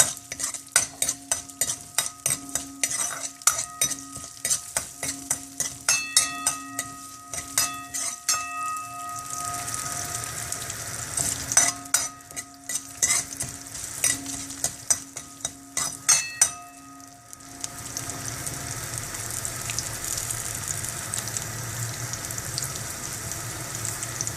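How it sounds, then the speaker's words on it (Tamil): Ingredients for pearl millet (kambu) paniyaram are stirred and roasted in a pan until reddish, a metal spoon clinking rhythmically against the pan over a steady sizzle, then giving way to a louder continuous frying hiss. "செவக்க வறுத்து"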